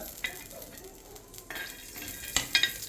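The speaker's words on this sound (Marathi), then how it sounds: "शेंगदाणे देखील तुम्हाला भाजून घ्यायचे आहे" Peanuts and chillies roasting on a hot tawa, a quiet crackle with light scraping and a few sharp metallic clinks of the spatula near the end, close and without talk.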